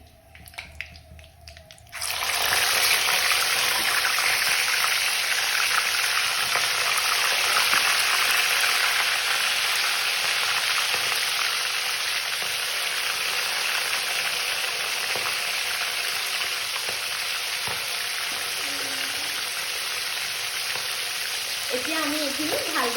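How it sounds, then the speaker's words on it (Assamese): After a brief quiet start, pieces of chicken go into hot oil and a loud, continuous sizzle of frying fills the rest, close and steady, with faint stirring near the end. "সেই মাংসখিনিও আমি এডোখৰ এডোখৰকৈ তেলত দি দিম"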